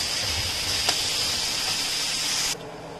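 Ivy gourd (tindora) frying in oil makes a loud, even hiss that runs steadily, then cuts off abruptly near the end, leaving a quieter background. No one talks.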